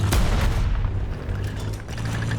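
Heavy booming gunfire from tanks in War Thunder, with a Comet I in the fight: a loud blast at the start, then a dense rumbling roll of shots and explosions close by.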